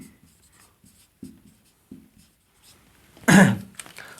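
A marker or chalk taps and scrapes on a classroom board in short, close strokes, ending in a louder scratchy burst of writing, with no talk over it.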